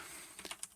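A few quick keystrokes on a computer keyboard entering a terminal command, soft clicks clustered near the end, faint and close.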